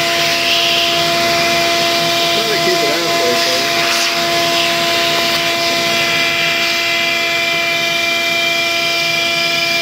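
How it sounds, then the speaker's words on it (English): A steady, loud vacuum motor drones throughout while sucking debris off a car during a turbo drain install, with a brief voice speaking over the continuous whine. "First, I'm gonna vacuum some of this stuff off of here."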